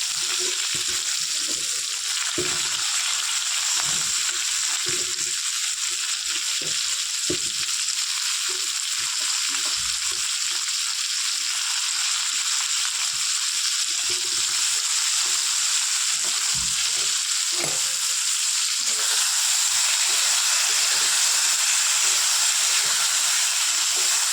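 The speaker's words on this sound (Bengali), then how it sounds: "পটলটা আমার হালকা হালকা ভাজা হয়ে গেছে, আমি মেরে দিয়ে এবার ডাঁটা দিয়ে দিলাম।" Pointed gourd (potol) with vegetable stems frying in a pan: a steady, close oil sizzle runs throughout, with scattered clinks and stirring knocks from a spatula against the pan.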